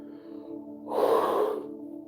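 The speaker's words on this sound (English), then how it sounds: "Don't mind me yawning." A person yawns once, a breathy swell of air rising in the middle and fading out against a quiet room hum.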